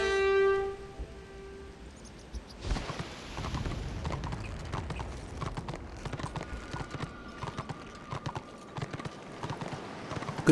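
Horse hooves clip-clop steadily in Warhammer Online as a mount travels, a continuous rhythmic trot under faint game ambience, starting after a brief musical tone.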